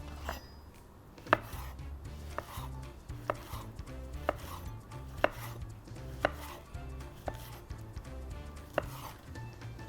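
A knife chops food on a board in irregular sharp taps, about a dozen strokes, close and fairly quiet with a low hum behind.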